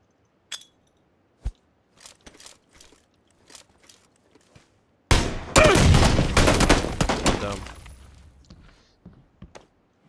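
Gunfire in PUBG: scattered single shots at first, then a dense, loud burst of rapid automatic fire lasting several seconds, followed by a few more isolated shots.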